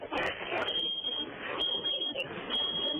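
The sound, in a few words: alarm going off during a residential fire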